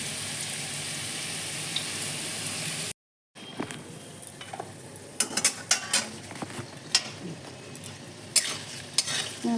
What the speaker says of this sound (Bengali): দেখুন কীভাবে প্রত্যেকটা আলু উল্টে উল্টে ভাজছি